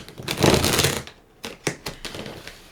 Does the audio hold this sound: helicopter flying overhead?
no